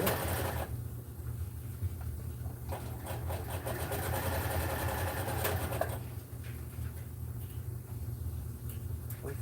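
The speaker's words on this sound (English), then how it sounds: "It's making a weird noise. Sounds like it's coming from the bobbin case." A sewing machine stitches scrap material with a rapid mechanical whirr and clatter, and an odd irregular noise comes from the bobbin case. The machine speeds up and slows down over several seconds, close by, with no talking.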